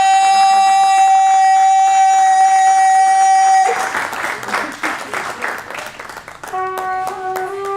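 A crowd breaks into applause for a trumpeter, a burst of many clapping hands that follows a sustained tonal note and then gives way to another held musical tone near the end.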